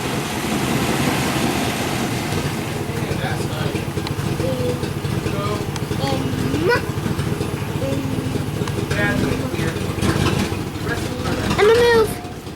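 A newly swapped engine runs in a 1997 Chevrolet Suburban, a steady idling drone heard nearby with a faint rumble throughout and some movement noise toward the end.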